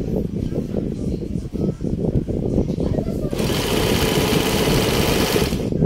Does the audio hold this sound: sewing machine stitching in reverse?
yes